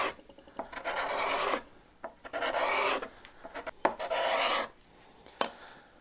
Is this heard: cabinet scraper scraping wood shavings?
yes